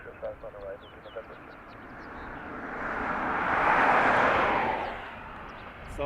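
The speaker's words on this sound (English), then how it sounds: "It's the DAT ATR being leased in by Emerald at the moment." A DAT ATR turboprop airliner at Dublin Airport swells from a low drone into a broad roar that peaks midway and then eases off, heard at a distance over faint background chatter.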